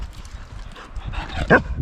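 A dog gives a short whimpering bark amid low rustling outdoors at a camp, close and moderately loud, with a brief voice nearby.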